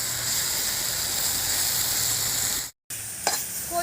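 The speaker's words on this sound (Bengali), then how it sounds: "আর কিন্তু দেখুন একদম ভাজা ভাজা করে নিচ্ছি, আর জালটাও কিন্তু খুব জোরেই দিচ্ছি।" Taro flowers frying with fish over high heat in a pan, a loud, steady sizzle close by that cuts out briefly and then resumes with a little stirring.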